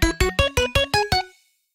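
A second Quadra synth layer, heavily processed with OTT compression and stereo expansion, plays seven bright, punchy notes in a steady rhythm. Each note carries dense upper harmonics, and the last one fades into a short tail.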